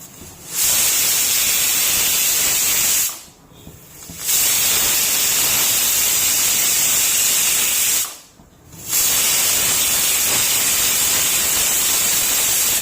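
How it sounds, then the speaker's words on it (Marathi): A pressure cooker on the stove vents steam in a loud, steady hissing whistle that runs nearly the whole time. It cuts out twice for about a second each, then resumes. "या कुकरच्या 2 ते 3 शिट्ट्या काढून घेऊया"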